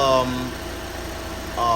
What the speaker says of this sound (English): So with the engine running, we're gonna go ahead and test this.